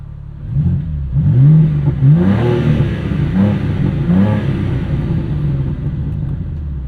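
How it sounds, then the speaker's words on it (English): Exhaust of a 2023 BMW M2 6-speed manual with the S58 engine, valves opened, rising and falling through repeated throttle blips into a deep, loud, steady rumble, close by with no talking. "So pretty standard BMW exhaust noises, S58"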